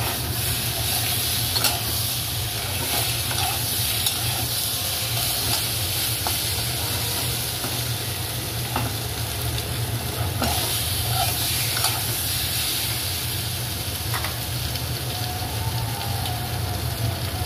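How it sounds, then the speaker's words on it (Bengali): Masala spice paste sautéing in oil, a steady broad sizzle and hiss that holds constant with faint occasional scrapes, close and continuous. "মশলাটা আরও ভালোভাবে কষাতে হবে, তা আরও একটু ভালোভাবে ধরা।"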